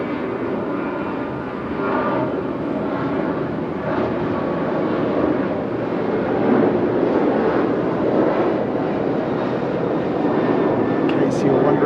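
Skymark jet airliner taxiing at Okinawa airport, a steady loud broadband engine roar and whine held throughout, with wind buffeting the microphone.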